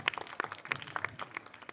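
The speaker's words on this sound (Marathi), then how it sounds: "टाळ्या." At a school quiz competition, a small group gives brief, faint applause for a correct answer: scattered light hand claps over a short moment.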